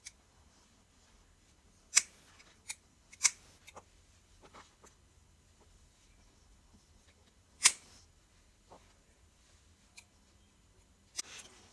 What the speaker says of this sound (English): I'm just going to cut them at random lengths